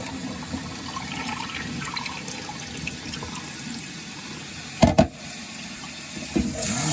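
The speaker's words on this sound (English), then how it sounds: "I've already rinsed this rice a little bit, but right now it's still dirty. Dump it out." Water sloshes and trickles steadily as rice is rinsed in a container, with a couple of louder splashes and clunks near the end as the water is poured out.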